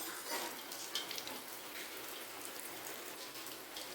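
Steady rain falls outdoors, a soft, even hiss with scattered faint patters, fairly quiet and continuous, with no talking.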